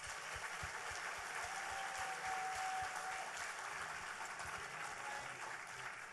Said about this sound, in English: How about a round of applause for all of our delegates?